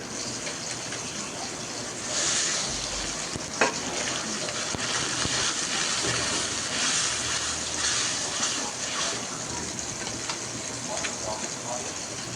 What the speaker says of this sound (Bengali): পেঁয়াজটা একটু ভেজে নাড়াচাড়া করে এরপর মশলা দিব।